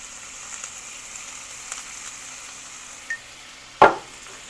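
Soft, steady crackle of green chillies, coriander and tomato tempering in hot oil, with a few sharper pops and one louder clink near the end.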